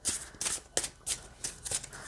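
A tarot deck is shuffled by hand at close range, about six quick papery riffles in an even rhythm with nothing else heard.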